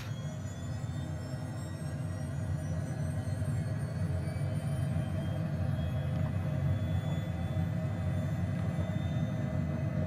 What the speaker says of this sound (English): So there's takeoff power set.